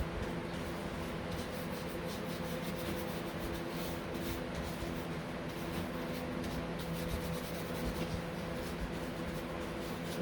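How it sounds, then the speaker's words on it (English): Clear wax is rubbed by hand onto a molded foam picture frame painted with Dixie Belle patina paint, producing a steady, faint, continuous rubbing hiss with no voices. "And then we're going to go in here to the clear wax."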